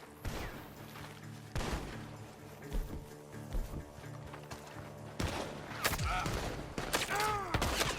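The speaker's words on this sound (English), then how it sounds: "The gunshots are coming from that barn." Several sharp gunshots crack in a scattered sequence from a barn over a noisy game soundscape with hoofbeats and a horse whinny, in Red Dead Redemption 2.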